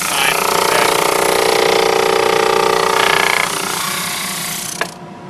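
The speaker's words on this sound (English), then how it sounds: "It needs more sanding, so I'm going to lower the drum and put them through another time." A drum sander grinds on wooden segments for a segmented bowl, a loud steady whir that drops in level partway through, ends with a brief knock and cuts to a quiet hum.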